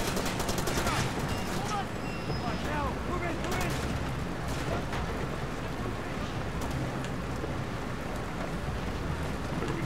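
Dense gunfire in the video game Far Cry 2, steady and loud throughout, with shots crackling over a noisy backdrop of game ambience.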